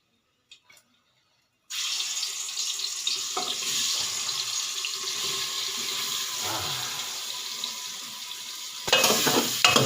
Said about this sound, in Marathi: आपल्याला पहिलं चिकन फोडणीला टाकूया गॅस थोडासा वाढवून घेतो